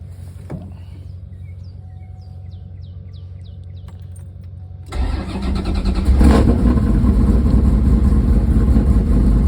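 A cold engine fitted with Edelbrock Pro Flo 4 fuel injection cranks briefly and fires almost at once, then settles into a loud, steady idle that rises slightly. Faint clicks come before the start and there is no talk.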